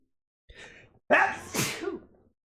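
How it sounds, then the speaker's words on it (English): A quick sharp intake of breath, then two loud bursting exhalations in close succession, like a stifled sneeze, close to the listener. "One moment, I feel a sneeze coming."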